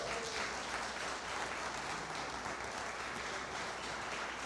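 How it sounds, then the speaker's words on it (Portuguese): A church congregation applauds during a sermon, a steady wash of clapping that stays fairly faint and even throughout, with no voices on top. "Alguém pode aplaudir Jesus?"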